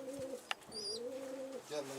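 Pigeons coo in low, rolling calls at close range, a couple of drawn-out phrases with a brief higher bird chirp and a sharp knock between them.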